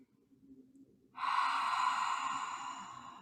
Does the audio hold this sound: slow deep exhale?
yes